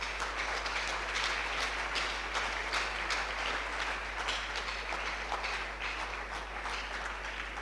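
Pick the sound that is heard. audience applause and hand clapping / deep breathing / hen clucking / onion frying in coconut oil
audience applause and hand clapping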